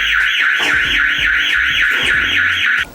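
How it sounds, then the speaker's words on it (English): A loud lift emergency alarm wails in a rapid repeating electronic warble during a test, steady and close, cutting off abruptly at the end. "We just explained that we're testing the lift alarm"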